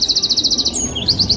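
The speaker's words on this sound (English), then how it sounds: "Wrens are tiny birds with brown feathers and a big voice. They love hiding in bushes and singing loud, sweet songs." A tiny brown wren sings a rapid, high trill of evenly spaced notes, pauses briefly, then resumes the trill, loud and close over a low background hum.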